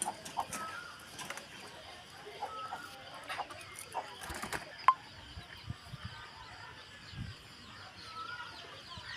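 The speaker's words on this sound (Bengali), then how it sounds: "দেশি মুরগি।" Desi native chickens on a home poultry farm give soft, scattered clucks and occasional calls, faint and somewhat distant over a quiet background.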